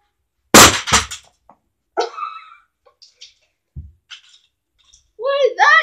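A keyboard dropped from six feet lands with a sharp, loud clattering crash and a quick rebound, then sparse small knocks and a voice talking at the end.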